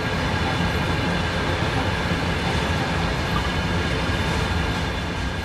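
A train in the Train Sim World 2 video game runs steadily with a continuous rumbling roll and faint rail clatter, even and unbroken throughout with no talk.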